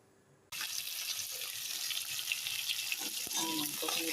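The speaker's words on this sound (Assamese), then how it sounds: "মাংসখিনি ভাজি আছোঁ" Chicken meat frying in a pan with potato and capsicum, a steady loud sizzle that starts abruptly and continues without pause, with faint stirring clicks.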